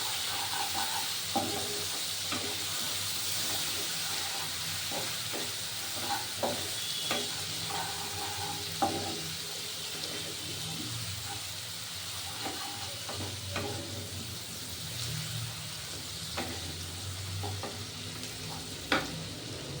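Vegetables fry in a kadai with salt, turmeric and sugar for vegetable chops, giving a continuous quiet sizzle broken by irregular scraping and clacking stirs of a spoon, with no talking.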